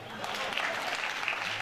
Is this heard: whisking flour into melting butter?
no